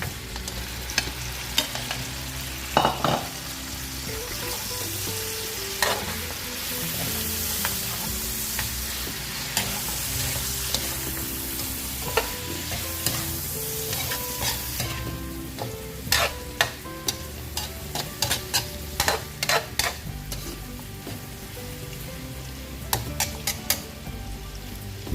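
Pork belly for adobo fries and crackles in a pan while being stirred, a steady close sizzle with frequent sharp spatula knocks and scrapes, especially toward the end.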